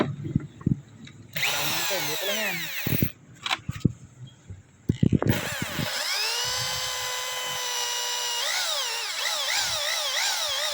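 An electric drill with a size 3 bit whines loudly, revving up and down in bursts, then runs steadily at high speed close by, with brief pauses and clunks between, while modifying a Yamaha Sniper 155 motorcycle for a bigger radiator.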